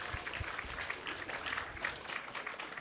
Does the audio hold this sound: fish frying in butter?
no